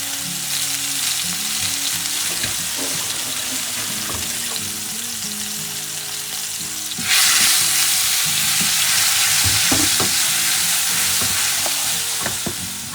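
Ginger garlic paste sizzles in a pan while fish curry is cooked, a soft fry with scattered clicks that jumps to a loud bright sizzle as the paste goes in, with stirring knocks throughout.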